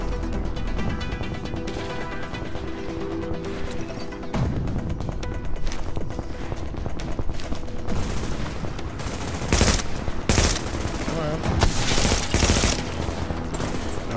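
Rapid video game gunfire rattles almost continuously in dense, loud bursts, with sharper cracks and heavier volleys building toward the end.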